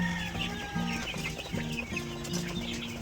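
Chickens on a farm, in a flock struck by disease, cluck continuously and close by in overlapping, rhythmic bursts, with a busy farmyard background.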